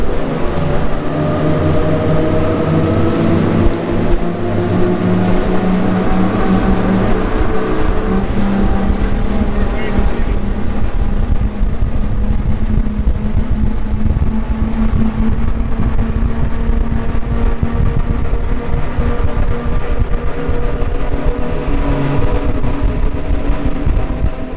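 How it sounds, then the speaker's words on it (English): A fishing boat's outboard motor roars at speed on an offshore run in the Florida Keys, with heavy wind buffeting and water rush, loud and continuous throughout. "Matakes wants to see how fast the boat goes, so we're gonna bump it up a little bit for him on the ride home."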